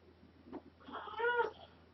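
A pet cat named Zippy gives a short, close meow with a rising then falling tone, following a faint earlier murmur, over a low steady background hum.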